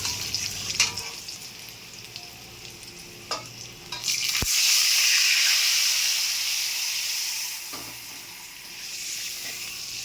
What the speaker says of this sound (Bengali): তেলের মধ্যে হলুদ দিয়ে পরিমাণ মতো গরম জল দিয়ে দেবো।